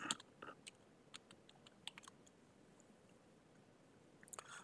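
Faint keystrokes on a computer keyboard come in short, scattered bursts of light clicks against a very quiet background, with no talking.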